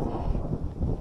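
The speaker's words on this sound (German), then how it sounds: "Blitz direkt hier eingeschlagen." Low rumbling thunder right after a lightning strike close by, a dense continuous roll that fills the whole second at steady, fairly loud level with gusty wind-like noise mixed in.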